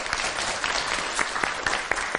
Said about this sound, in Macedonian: Да ја охрабриме со аплауз